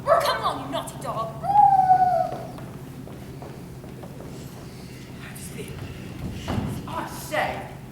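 An actor on a school stage in a Peter Pan production imitates a dog, giving a drawn-out whining howl amid voices and stage thumps, with people talking around it.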